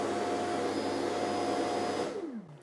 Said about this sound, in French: je vais lancer le vidage manuellement avec l'application